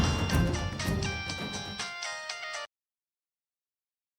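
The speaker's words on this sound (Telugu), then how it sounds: "ఫోన్ లిఫ్ట్ చేయండి అఖిలాండేశ్వర్ గారు." A phone ringtone plays a bright, melodic electronic tune for about two and a half seconds, then cuts off abruptly into silence.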